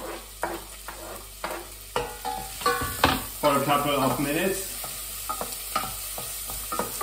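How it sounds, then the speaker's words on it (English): Onions fry and sizzle in a pan while a wooden spoon scrapes and stirs in irregular strokes; a person speaks briefly midway. "frying or cooking the onions"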